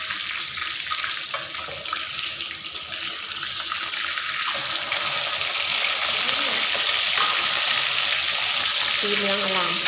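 Crisp-fried carp crackling and sizzling steadily in hot oil, a loud, dense hiss that rises slightly with stirring, close up with no talk.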